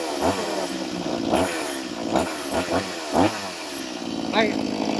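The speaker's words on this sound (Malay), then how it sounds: "Baik, anda dapat dengar bunyi rantai." A small chainsaw engine running on 40-grade lubricating oil revs loudly and unevenly, with the chain rattling, while a person talks over it.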